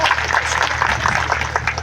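Crowd applause at a political rally, a dense steady patter of clapping that holds at an even level throughout with faint voices mixed underneath.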